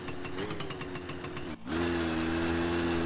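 A small motorcycle engine in My Summer Car droning at a steady mid pitch, dipping briefly as if shifting gear, then settling into a fuller, slightly lower hum, alone without talk.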